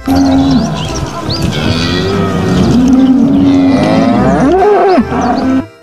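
A cow moos loudly and close, a long drawn-out low call that rises and falls, with a second bellow near the end.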